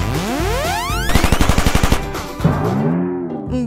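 Rapid video game gunfire rattles out as a fast burst of about a dozen loud shots, surrounded by whooshing rising and falling electronic effects.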